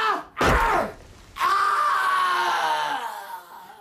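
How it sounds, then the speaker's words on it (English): A man screams in a radio drama: a sharp, loud cry, then a long, strained wailing scream that slowly trails off, near and close to the microphone. "Even now I can hear that scream."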